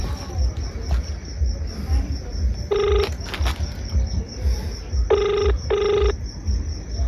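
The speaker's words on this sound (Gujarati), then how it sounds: "બરાબર નરસિંહજીને ફોન કરું" An outgoing telephone call gives short ringing tone bursts, one then a quick pair, sounding over a steady chorus of chirping crickets at night.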